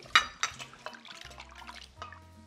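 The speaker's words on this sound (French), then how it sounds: "donc je trempe dans l'eau" Pieces of pork for guo bao rou go into a bowl of water in a home kitchen: a few close, sharp splashes and drips, then soft sloshing with low handling noises, and no talking.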